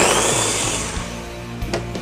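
A kitchen blender whirs loudly as it chops chimichurri sauce with fresh cracked pepper, the motor droning steadily and easing slightly, with a few knocks and clatters near the end.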